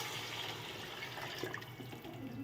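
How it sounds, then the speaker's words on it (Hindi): Water pours steadily into a cooking pot of fried chickpeas for chana pulao, a continuous close splashing rush running the whole moment with no talking. "अब इसमें डाल देंगे पानी"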